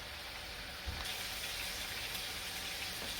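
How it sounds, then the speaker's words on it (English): Pine nuts and minced meat frying in hot oil for meat samboosik, a steady close hiss of sizzling with no talk. "I add the pine nuts at this stage to actually brown it up in the oil itself"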